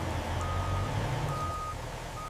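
A delivery truck backing up at a loading dock sounds a steady, clear series of reversing beeps over a low idling engine rumble, with no talk.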